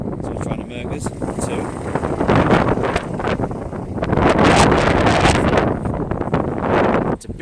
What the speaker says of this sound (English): It's a bit windy as well.